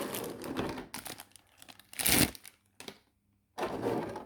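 Adhesive tape is handled while a collectible anime figure is unboxed, giving crinkly tearing bursts and a louder rip near the middle, with quiet gaps between the short crackles.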